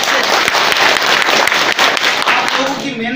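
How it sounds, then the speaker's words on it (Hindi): Loud, dense applause from a large crowd at a BJP MLA's victory celebration in Mewar after a panchayat election win, sustained clapping filling the space before it thins out at the end. "एक बार जोरदार अपने लिए ताली बजा दो"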